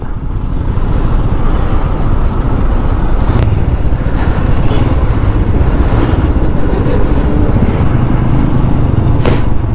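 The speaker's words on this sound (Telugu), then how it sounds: "ట్రాఫిక్" Dense city road traffic in Bengaluru roars steadily around a moving modified Yamaha R15 V4 motorcycle with an Arrow exhaust, with loud wind rumble, passing vehicles and a couple of sharp horn-like bursts.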